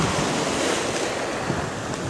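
Waves and wind at Tolotio cliff on Bone Pantai beach, Gorontalo, a steady broadband roar of surf with wind buffeting the microphone, continuous and fairly loud with no voices.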